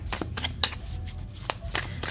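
A deck of tarot cards with hand-colored edges being shuffled, close and loud riffling in quick repeated bursts, with no talk over it.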